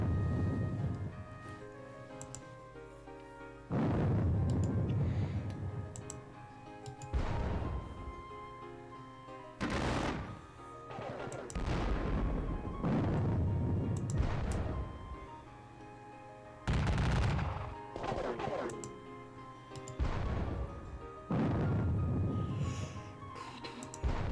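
Repeated booming artillery volleys and bursts of gunfire from a Gettysburg Civil War wargame, loud heavy blasts recurring every few seconds with rumbling decay between them, no talking.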